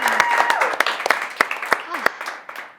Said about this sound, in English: Let's give her a huge round of applause, everyone.